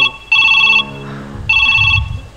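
Electronic telephone ringing in two bursts of a bright, tonal trill with a short gap between them, heard at close range over faint background chatter.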